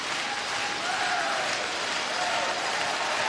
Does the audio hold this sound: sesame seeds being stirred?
no